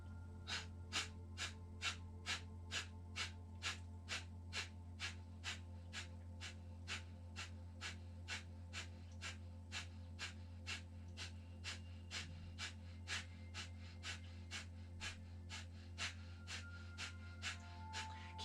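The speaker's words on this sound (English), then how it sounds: "We're going to take a deep breath in, and we're going to start those quick exhales." Quick forceful exhales during a yoga breathing exercise for the Manipura chakra, a fast, even train of sharp puffs repeating roughly twice a second, faint and close over a steady low hum.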